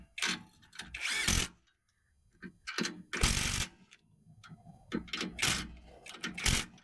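A power driver runs 17 mm bolts down tight on a truck, giving several short, loud whirring bursts with brief ratcheting pauses and clicks between them, fairly close.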